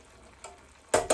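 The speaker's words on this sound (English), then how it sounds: "Constantly keep stirring this, because you don't want your pasta to get stuck in the bottom of the pan" Shrimp linguini pasta is stirred in a pan, with a soft background and then two short scraping, sizzling bursts near the end.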